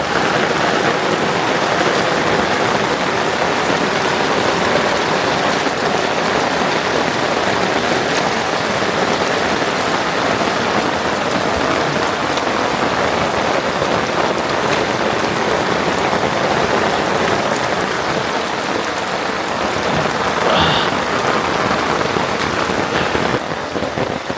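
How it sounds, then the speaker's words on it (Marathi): Steady rain pours down during a monsoon outing on the Konkan coast, a loud, dense, even patter on surfaces that continues without pause for over twenty seconds, with no talking. "पाऊस पण सुरू झालेला आहे"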